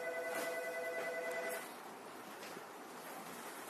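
A telephone rings quietly in a room, a steady electronic ring lasting about a second and a half before cutting off, leaving only low background hiss; nobody speaks.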